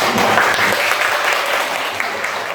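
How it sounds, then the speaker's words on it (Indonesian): Classroom applause from students at a high school after a group presentation: steady dense clapping from many hands, close and loud, lasting throughout without a break. "Beri tepuk tangan"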